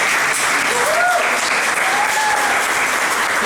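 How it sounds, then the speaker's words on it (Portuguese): Audience at a mathematics teacher-education lecture claps steadily, a dense, even wash of applause from a mid-sized crowd throughout. "Vamos receber uma salva de palmas,"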